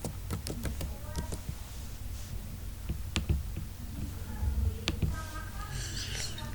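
Someone types an old password on a computer keyboard, a quick run of separate sharp key clicks with short pauses, close by over a quiet background with faint talk.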